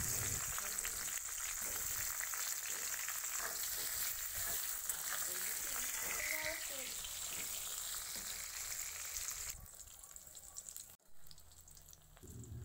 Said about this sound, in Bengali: তারপরে তেলটা গরম হলে লবণ আর হলুদ মাখানো বেগুন আমি ভালো করে ভেজে নেব।